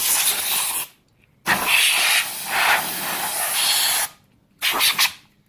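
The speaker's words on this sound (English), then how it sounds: "Just clean it out a bit with the airbrush." Airbrush blasts of air clean out the floppy disk drive of an Amiga 500, giving loud close hissing bursts: a long spray, a pause, a longer spray with fluttering pressure, then a short final puff.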